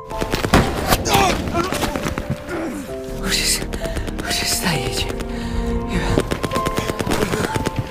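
Gunfire in a World War I battle scene, with dense rapid machine-gun bursts and rifle shots crackling continuously over rumbling explosions, voices shouting faintly beneath.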